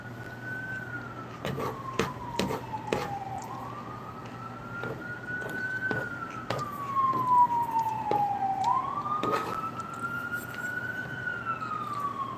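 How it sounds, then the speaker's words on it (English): An ambulance siren wails outside in a slow rising and falling sweep for the whole stretch, moderately distant and steady, with scattered clicks and faint room noise over it. "Another ambulance going by."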